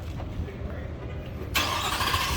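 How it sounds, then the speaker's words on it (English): A supercharged 2021 Shelby F150 Supersnake pickup fires up partway through, a sudden broadband engine burst over a low idle rumble, with someone talking nearby. "He's gonna start it up for me,"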